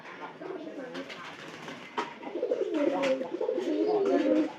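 Pigeons kept in a household loft coo in low, wavering phrases, the calls growing fuller and more overlapping toward the end, close by over a quiet background.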